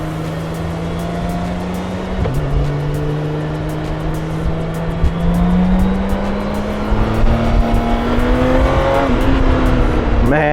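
A 2024 BMW K1600B bagger motorcycle on the move, its engine droning steadily and climbing in pitch, with drops at gear shifts near the start and end over a constant wind and road roar.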